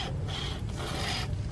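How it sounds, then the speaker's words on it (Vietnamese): A survival wire saw cuts through a coconut palm branch with a continuous rough, rasping drag, steady and close, in back-and-forth strokes with no pauses. "Hôm nay mình sẽ thử cưa cái nhánh"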